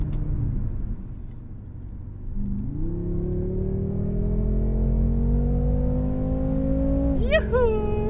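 A 2014 BMW M5 F10 with a quick DCT gearbox accelerates through the gears in sporty settings, its engine note climbing steadily and then dropping at a sharp upshift. The engine is loud and close, with a talking voice over it.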